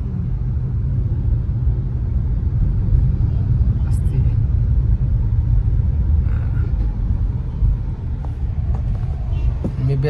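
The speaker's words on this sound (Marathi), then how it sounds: "आणि गाडी चालवते आहे" A car being driven, with a steady low engine and road rumble throughout, close and continuous, with faint incidental sounds on top.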